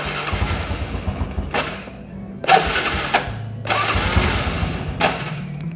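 Fuel-injected 125cc motorcycle engine turned over and idling, heard as repeated starter-like bursts between quieter gaps, close and moderately loud.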